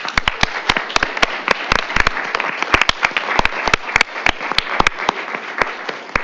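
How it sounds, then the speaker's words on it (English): An audience at a school district board meeting applauds, giving a steady round of sharp, overlapping hand claps that continues throughout at a moderate distance, with no talking over it. "Let's give them a round of applause."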